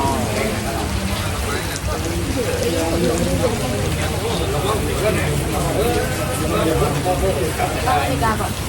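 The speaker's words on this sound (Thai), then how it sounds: "แต่ว่ามันบรรยากาศดีมากเลยนะฝนตกอ่ะ" Rain falls steadily outside a restaurant in Chiang Mai, a dense even patter close by, with faint indistinct chatter from people mixed in.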